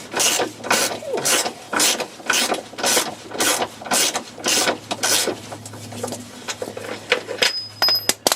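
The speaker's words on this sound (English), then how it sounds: "I've just got to get this bolt out here now, which is the last bolt." A ratchet wrench loosens the last front wishbone bolt on a 2015 Ford Fiesta MK7, giving a steady run of close, loud, evenly spaced clicking strokes that continues for several seconds.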